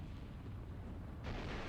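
A ship's internal explosion in the naval strategy game War in the Pacific rumbles as a low, muffled continuous roar, brightening into a harsher burst near the end.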